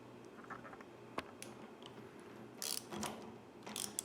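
A TEKTON ratchet turns a socket through a universal joint with faint, close clicking pawl ticks and light metallic rattles, quiet and intermittent.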